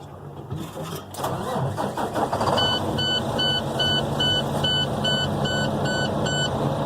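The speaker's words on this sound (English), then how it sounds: "Now we're going to start up the vehicle." An engine cranks and catches, then idles steadily while a regular series of electronic beeps pulses over it.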